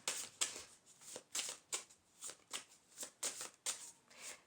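Oracle cards being shuffled by hand during a tarot-style reading, about ten soft, papery riffling bursts in a steady rhythm, close and quiet with no voice.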